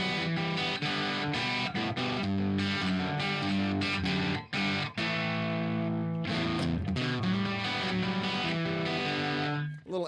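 Distorted electric guitar plays an opening riff through effects, with sustained, buzzing chords and notes ringing continuously and loudly for the whole stretch, with only brief dips between phrases.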